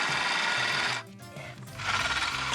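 A cordless drill whirs loudly and steadily, dips briefly as it bogs down mid-hole in a shipping container, then revs back up to full speed.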